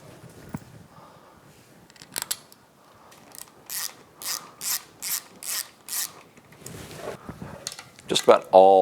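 Hand ratchet tightening 6mm bolts on a Yamaha F225 outboard powerhead during a rebuild: a run of sharp, evenly spaced clicking strokes, close and clear, with quieter handling noises before and after.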